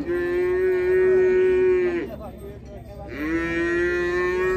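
Cattle at a livestock fair in Águas Belas give two long, loud moos close by, separated by a short pause, with a low murmur of the fair behind them.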